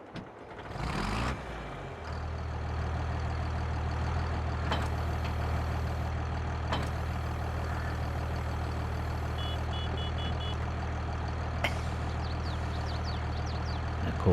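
An older-style John Deere 4755 tractor in Farming Simulator 22 on PS5 starts up, then settles into a steady, loud, low engine drone, broken by a few sharp clicks and short high beeps.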